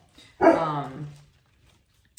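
A single loud bark from a pet dog, close and clear, trailing into a brief whine and then quiet.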